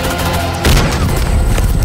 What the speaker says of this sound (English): Breach doors with explosives or a kick.